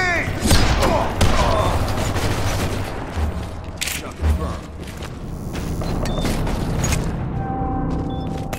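Grenade detonation in the online shooter Ballistic Overkill amid busy combat: heavy thumps and booms, mechanical clatter and scattered gunfire over several seconds, with player voices calling out beneath the noise.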